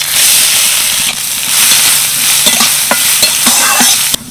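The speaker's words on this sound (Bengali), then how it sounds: "সেটাই এখন এই তেলের মধ্যে দিয়ে ভালো করে ভেজে নেব" Loud, continuous sizzling of mung dal frying in oil, with scraping stirs and occasional sharp pops, close up and with no voices.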